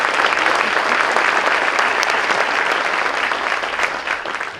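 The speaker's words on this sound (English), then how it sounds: "Give them a big round of applause." A school event audience gives a big round of applause, a thick, continuous roar of many hands clapping that holds steady and then tapers slightly near the end.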